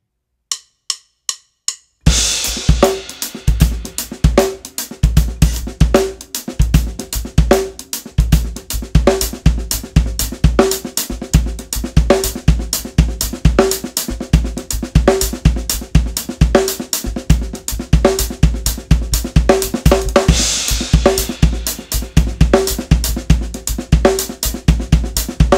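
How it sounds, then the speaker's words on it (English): Full drum kit played alone in a drum lesson, running a loose, cracked-out shuffle groove in triplets: steady busy hi-hat or cymbal strikes over punchy bass drum and snare hits, close and loud after a few sparse clicks at the start. "So now I'm gonna play this weird kind of cracked out shuffle triplety type thing"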